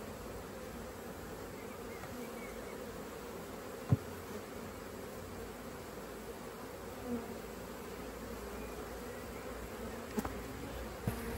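A nervous swarm of honeybees that has lost its queen drones in a steady, dense buzz, close and continuous, with a few faint knocks and no voices.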